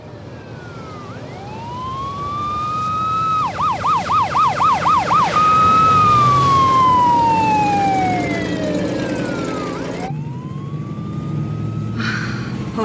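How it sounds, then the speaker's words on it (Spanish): An emergency siren approaches loudly, sweeping up and down, then yelping rapidly before fading into a long falling wail, with traffic noise underneath. "Oír las sirenas."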